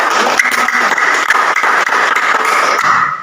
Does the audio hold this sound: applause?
yes